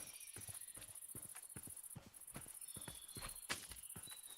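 A horse walks in the video game Minecraft, soft clip-clop hooves in an even, steady rhythm under a faint high ambient hum, with no voices.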